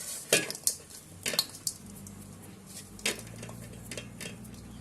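Cardamom is stirred into a sweet coconut and dal paniyaram filling, with a few sharp spoon clinks and scrapes against a bowl over a low steady background hum, close by and with no talking.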